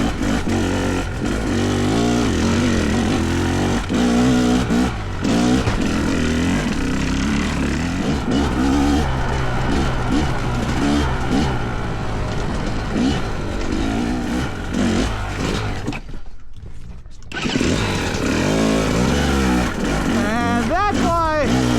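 Two-stroke dirt bike engines, a Fantic XE300 and a KTM 300XC-W, revving loud and close with rapid crackling pulses rising and falling, briefly cutting out before firing again, and riders talking over the noise.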